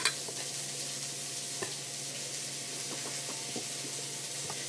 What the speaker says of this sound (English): I'm stirring it in as the swordfish finishes on the stove